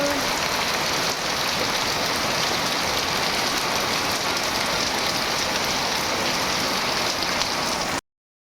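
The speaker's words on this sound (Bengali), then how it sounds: "ঝাপ করে বৃষ্টি নেমেও গেছে" Heavy rain pours down steadily outside a house doorway, a dense, even hiss close by that continues without pause before cutting out at the very end.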